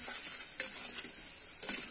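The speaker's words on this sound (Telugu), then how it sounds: "అల్లం వెల్లుల్లి పేస్ట్ అయితే వేసుకుంటున్నాను." Freshly pounded ginger-garlic paste with cloves and cinnamon fries in hot oil for a mutton head curry, giving a steady close sizzle with a few brief stirring scrapes and no talking.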